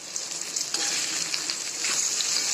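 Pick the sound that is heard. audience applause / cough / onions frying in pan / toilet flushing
onions frying in pan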